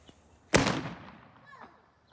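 Fireworks fired from a Titan Techs FIREFLY remote launcher: a single sharp loud bang, then a fading crackling tail and a fainter burst about a second later.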